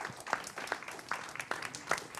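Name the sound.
audience applauding a performer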